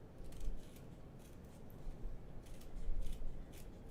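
Scissors cut out a handbag pattern piece close by, a run of soft, repeated snips and paper rustles at a quiet, steady pace.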